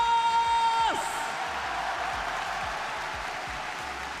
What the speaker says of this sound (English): Ladies and gentlemen, please give a big round of applause once again.